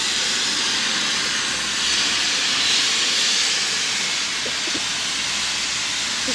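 Steam train releasing steam at a station, a loud continuous roaring hiss close by that swells slightly and fills the whole stretch with no voices.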